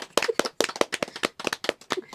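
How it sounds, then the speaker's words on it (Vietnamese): A small group of people, children among them, clap their hands in a quick, fairly regular rhythm, about a dozen sharp claps close by with no talking over them. "1, 2, 3 vỗ tay, nhanh lên, nhanh lên."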